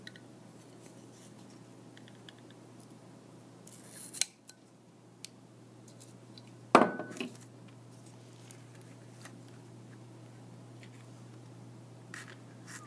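Easy cutters snipping through material, a few faint, sharp clicks and one louder crisp cut in a quiet room with a steady low hum, no talk.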